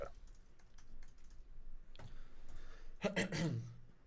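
Brief, light typing on a computer keyboard: scattered soft key taps, then a denser burst of keystrokes near the end, close and quiet.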